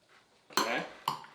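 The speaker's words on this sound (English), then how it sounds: "Hold on, I gotta get you a spoon. A baby spoon, though." Metal cutlery rattling as a baby spoon is fished out of a drawer in a home kitchen, with a long jangling rummage followed by two sharp clinks, close and fairly loud.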